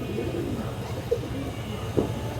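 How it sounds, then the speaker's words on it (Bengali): Indian high-flyer pigeons give low cooing calls, with two brief louder coos standing out against a steady murmur of background noise. "এই দেখেন পুরো ফ্রেশ কবুতর"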